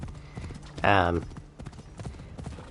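Hooves of a horse in a video game clip-clop in a steady rhythm throughout, while a person briefly speaks over them partway through.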